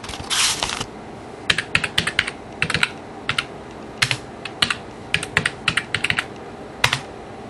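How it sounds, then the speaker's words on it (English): Rapid bursts of keystrokes clatter on a Toshiba Satellite L300D laptop keyboard, irregular clicks in short clusters after a brief scuffing rustle at the start, close and fairly crisp with no talking. "It is such a bitch to type with one hand"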